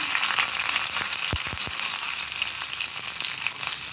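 Garlic sautés in a generous amount of oil for a tomato kara chutney, a loud, steady, close hiss of frying with a few brief bumps.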